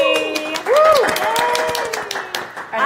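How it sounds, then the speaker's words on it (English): Hand clapping on a live studio show, a steady patter of claps running under people talking and laughing. "I don't know why I'm clapping for myself."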